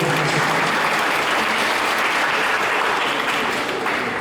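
A congregation at a church fundraising gathering applauds in a broad, sustained wash of clapping from a large crowd, steady and loud throughout with no distinct voices on top.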